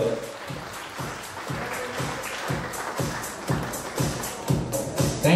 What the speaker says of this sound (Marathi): यांच्यासाठी जोरदार टाळ्या ग्राउंडवर.